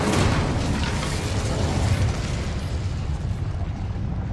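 An Incendio fire spell from the Hogwarts Legacy video game erupts in a loud, broad whooshing blast that roars steadily and slowly fades.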